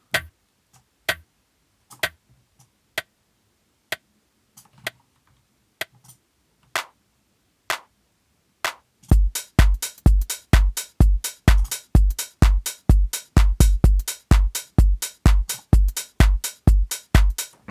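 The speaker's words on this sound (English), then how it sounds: "So I'm using this clap to enhance the transient, the punch of our original clap" Clap drum samples played in Ableton Live 11, first as sparse, crisp single snaps at a steady beat, then as a fast, punchier layered pattern with a deep thump under each hit, dry and close.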